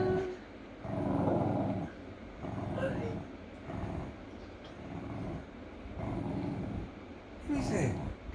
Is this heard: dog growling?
yes